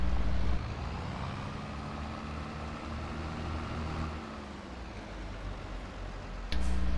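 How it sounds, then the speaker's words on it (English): A farm tractor in the Farming Simulator video game drives along with a steady, droning engine rumble that holds evenly for several seconds, with a brief change in tone near the end and no talking. "We'll grab our tractor."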